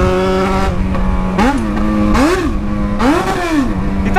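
A Yamaha XJ6 motorcycle carrying a passenger revs hard, its engine pitch climbing and dropping in three sharp surges over a steady idle, loud and close.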